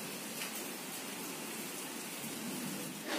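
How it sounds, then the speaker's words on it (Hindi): Steady rain falls in a dense, even hiss, close by and unbroken throughout, with no voices. "देखो गाइस बारिश आ रही है"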